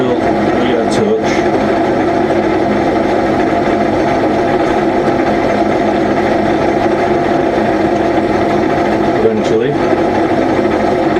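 A milling machine runs steadily up close while its knee is wound up to touch off a tool on the workpiece, a constant loud mechanical whir with a few brief clicks, and someone speaks briefly over it.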